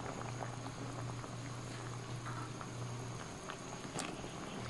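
Ginataang sari-saring gulay with kalabasa and sitaw simmering in coconut milk, a steady soft bubbling and patter with a low hum underneath, continuous and fairly quiet throughout.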